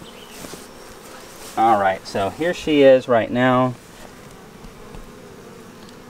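Honey bees in a homemade hive hum steadily around a virgin queen, a constant buzzing drone underneath someone talking up close.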